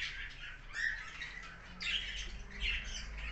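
Pet birds, including albino and lutino birds, give repeated harsh squawks in bursts, fairly near over a low background rumble.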